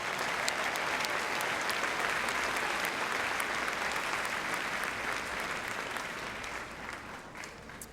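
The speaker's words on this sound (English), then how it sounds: "How about a round of applause once again for our three speakers and our band and our choir" A school graduation audience applauds in a large hall, with sustained dense clapping that holds steady and then begins to fade toward the end.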